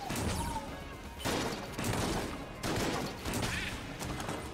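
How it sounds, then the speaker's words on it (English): A mass shotgun fires in the Enter the Gungeon video game, producing four booming blasts roughly a second apart over a steady wash of game noise. "I'm learning to appreciate this mass shotgun."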